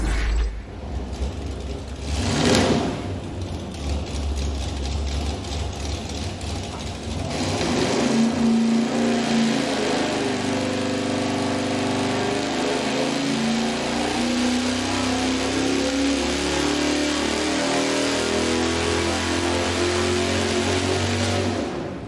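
An engine on a dyno with a high-RPM misfire, heard first as mechanical clatter and bursts, then a sustained loud rev that climbs steadily in pitch and holds near the top for over ten seconds.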